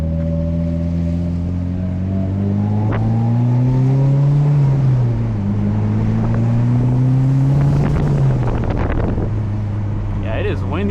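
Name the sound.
car accelerating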